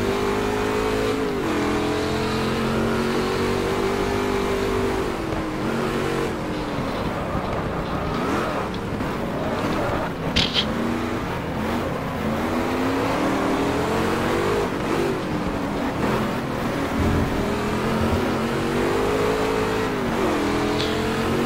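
A Corvette race car engine in the GT Legends racing game roars continuously, revving up and down through gear changes with a loud, sustained, rising and falling pitch and no talking.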